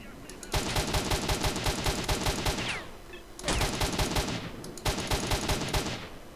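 Automatic gunfire from a gun in the video game Search Dies Irae: long, rapid bursts of loud shots broken by short pauses, with faint talk underneath.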